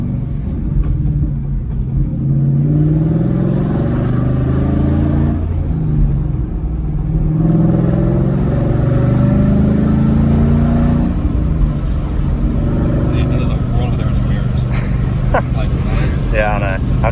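Ford Mustang engine rumbling steadily from inside the cabin while driving, a continuous low drone with mild revving under ongoing conversation.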